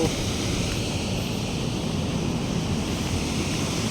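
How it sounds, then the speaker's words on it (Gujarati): Water pours over the Dantiwada dam in a constant, dense roar, loud and close, with no break across the whole stretch. "પાણીનો અવાજ કેવો આવે છે મિત્રો જોઈ શકો છો"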